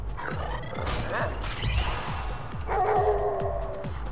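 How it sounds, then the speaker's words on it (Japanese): Game-animal barking from Tokyo Jungle, a short series of sharp dog barks repeating at a steady pace over crunching impacts and other game effects, with a brighter tonal sound entering near the end. "お、吠えた吠えた。"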